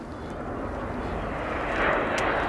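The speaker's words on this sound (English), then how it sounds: "Features of our MP339 aircraft able to sustain." An Italian Frecce Tricolori MB-339 jet in an aerobatic display roars overhead as a broad, steady rush that swells slightly louder toward the end, with a commentator's voice faintly present.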